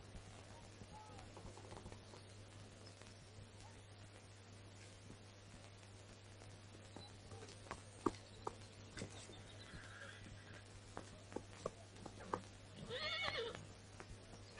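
A horse whinnies and snorts amid scattered hoof clops and faint outdoor ambience in a historical Bulgarian drama set at the court of Prince Boris I, with a louder neigh near the end.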